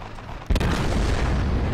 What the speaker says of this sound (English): We're having a gunnery duel. A good old-fashioned battleship slugfest.